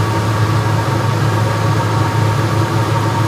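A windowless portable air conditioner runs at maximum fan speed, giving a loud, steady, unbroken roar with a deep low hum beneath it and no voices.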